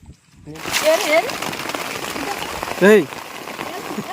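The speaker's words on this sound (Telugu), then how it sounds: "ఫుల్ వర్షం పడుతుంది" Heavy rain falls steadily throughout, a dense continuous patter with a brief louder splash near the end, while children's and adults' voices talk over it.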